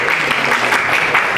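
A crowd at a Korean political talk forum claps to welcome the host, a fairly loud, continuous patter of hands with a few sharper individual claps standing out.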